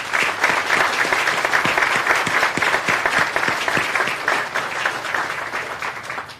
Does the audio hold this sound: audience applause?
yes